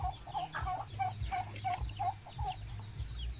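Poultry kept on a backyard farm call in a steady run of short clucks and gobble-like notes, several birds close by with overlapping low rumbling underneath, no talking.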